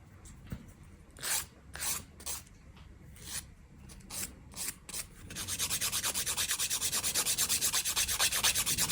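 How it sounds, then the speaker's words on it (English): Nail file worked back and forth across a fingernail during a dry manicure, first in short separate rasping strokes, then quick continuous even scraping, close and fairly quiet. "I shorten the nail, just filing straight, and going back and forth is perfectly fine"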